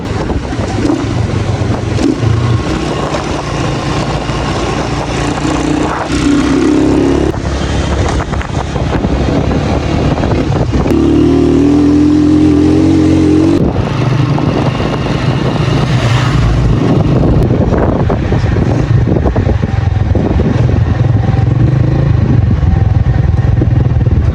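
Continuous loud motorcycle engine rumble on a main road in Neelum Valley under heavy wind buffeting on the microphone, sustained throughout without a break.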